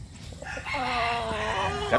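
A native bulik rooster with a straight comb and yellow legs crows once, a rising then sustained call lasting about a second and a half, close and clear.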